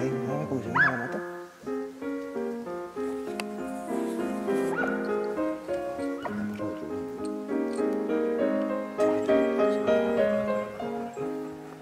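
A pack of hunting dogs bays and yelps in the woods of the Sierra Morena during a montería, overlapping barks and whines going on without pause at a moderate distance.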